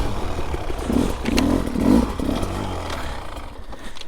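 A motorcycle stuck in a bog during a night ride, its engine revving in short, uneven bursts close by with rough, clattering texture as the throttle rises and falls.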